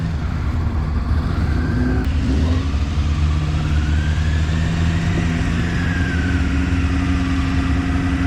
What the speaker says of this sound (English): a little bit of gas just stabilises the bike without being excessive